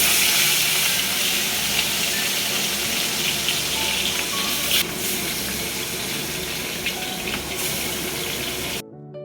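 Fish curry cooking in a pan in an old home kitchen, a loud, continuous sizzle and bubbling with a faint clink or two, running steadily before cutting off abruptly at the end.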